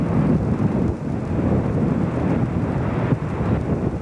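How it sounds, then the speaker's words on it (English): Strong wind buffeting a microphone outdoors on a hilltop climb in Ireland, Wales or England, a loud, continuous roar with gusty swells and dips throughout, no voices. "wind before I get blown over."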